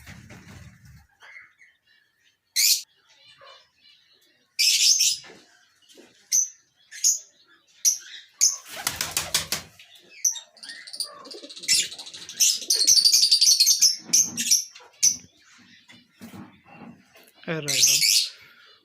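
Pigeons in a colony in Pakistan coo and chirp in scattered bursts, with a flurry of wing flapping midway and brief rustling noises between calls.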